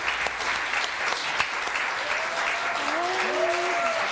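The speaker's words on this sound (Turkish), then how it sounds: "Tazegül Hanım'ı alalım alkışlarla." A television studio audience applauds as a guest is welcomed on the Turkish talk show Müge Anlı ile Tatlı Sert, with steady sustained clapping throughout and faint voices and a brief tonal sound beneath it.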